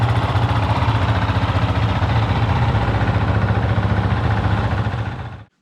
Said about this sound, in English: So first thing we gotta do is warm this bike up for 3 minutes